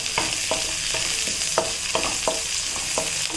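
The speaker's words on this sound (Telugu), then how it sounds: "ఇలా ఈ ఆనియన్స్ బ్రౌన్ కలర్ వచ్చే వరకు వేగించాలి." Onions, dried red chillies and curry leaves fry in a pan with a constant bright sizzle, while a spatula scrapes the pan in a regular rhythm about twice a second.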